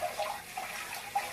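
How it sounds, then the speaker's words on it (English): Water runs from a kitchen tap as something gets a quick rinse, a faint, steady splashing stream for a moment with no talk. "Just going to give this a quick rinse."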